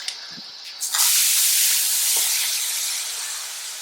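Eggplant hits hot oil already spiced with mustard seeds, curry leaves and coriander powder, bursting into a loud, sustained hiss that starts about a second in and slowly eases, with no talk over it.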